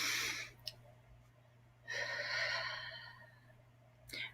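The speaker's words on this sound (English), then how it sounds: "Take a deep breath." A person draws a deep breath in and lets it out in a long, audible sigh, close and quiet, with a short sniff at the start and another breath at the end.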